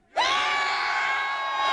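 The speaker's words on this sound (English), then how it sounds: "Let me hear you scream!" A rally crowd at Dealey Plaza erupts into loud, sustained screaming and yelling, a dense wall of voices that rises sharply and holds steady throughout.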